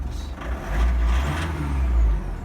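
A Mitsubishi L200 Barbarian pickup truck engine with a standard exhaust rumbles low and swells as it revs briefly, rising twice in a short burst close by.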